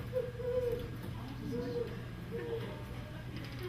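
A voice imitates a great horned owl, giving low rhythmic hoots in a short series, indoors at a live talent show with faint room noise.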